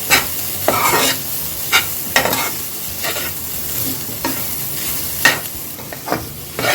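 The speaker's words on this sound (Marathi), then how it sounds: "निघेपर्यंत होतं व्यवस्थित जरा परतवायचं एकदम जास्त नाही थोडस परतवायचं" Grated coconut sautés in a pan under a spatula, with a loud, close frying hiss and repeated scraping stirs every second or so.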